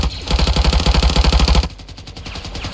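Rapid futuristic blaster fire from Star Wars style weapons in the Ravenfield video game, a fast loud burst of repeated shots that stops abruptly, followed by quieter scattered firing.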